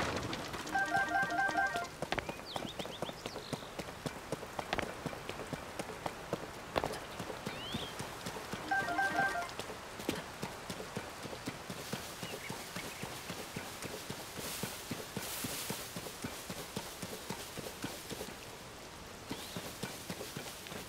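Horse hooves clip-clop steadily through most of the stretch in Zelda: Tears of the Kingdom, a moderately near rhythmic patter with no talk over it.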